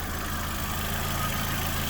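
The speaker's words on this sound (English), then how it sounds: "I don't know if you can see this engine vibrating" A car engine idles under an open hood, with a steady low rumble and a faint shaking vibration, close and continuous.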